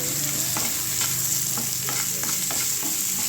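Thinly sliced onions with green chillies frying in a pan toward golden colour, a steady loud sizzle running throughout, with spoon scrapes and stirring strokes repeating at a regular pace on top.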